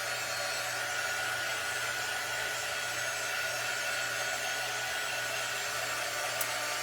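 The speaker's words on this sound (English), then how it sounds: "I'm gonna go ahead and hit it with the heat just to dry it." Heat tool blowing steadily on paste spread over a farmhouse-style flag on a magnetic frame, a continuous close whooshing hum with a faint tonal whine, alone without talk.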